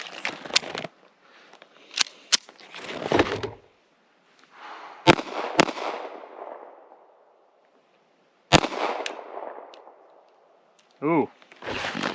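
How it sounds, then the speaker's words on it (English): A Ruger LCP MAX pistol fires hollow point rounds outdoors, several sharp loud reports in irregular bursts with ringing decay between them, and a brief voice near the end. "most of the ammo we're shooting out here today is full metal jackets, but I do have a magazine of hollow points here."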